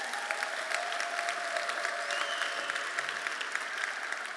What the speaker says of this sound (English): That needs a round of applause.